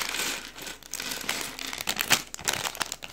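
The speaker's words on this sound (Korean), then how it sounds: "자, 박스 다 뜯고." Cardboard LEGO Creator 31088 box being torn open, close and fairly quiet, with a run of crinkling and ripping bursts and irregular tearing sounds and no talking.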